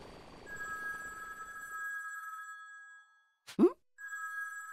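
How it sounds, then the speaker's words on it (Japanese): A telephone rings in the Dragon Ball Z Kakarot video game with a bright, steady electronic tone that stops briefly for a short voiced exclamation, then resumes. "電話だ。"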